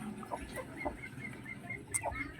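Crossbreed chicks and hens, including a Rhode Island Red and a native hen, give soft scattered clucks and faint peeps in a quiet farmyard, with a few brief louder calls.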